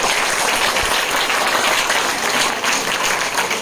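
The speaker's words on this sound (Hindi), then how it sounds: "तो दोस्तों आप जोरदार तालियां मैडम के लिए" An audience at a business seminar gives someone speaker loud applause, with thick, sustained clapping that fills the room evenly for several seconds and no voices over it.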